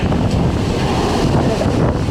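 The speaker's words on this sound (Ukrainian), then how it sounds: "Вітер ви самі бачите, які пориви бувають такі, що з ніг збивають" Strong winter mountain wind in the Carpathians buffets the microphone in a steady, heavy roar with rushing gusts, loud and continuous throughout.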